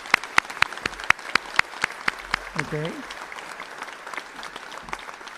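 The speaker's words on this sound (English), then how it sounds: "let's give them a big round of applause" An audience at a graduate management school hooding ceremony claps in sharp, distinct beats that thin out and fade over a few seconds, before a voice briefly speaks.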